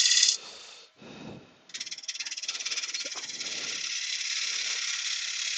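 A half-inch bowl gouge makes shear cuts across a wooden bowl or platter spinning on a lathe, giving a close, steady rasping chatter that starts after a short squeal and a pause and then runs on evenly.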